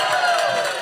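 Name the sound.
audience applause and cheering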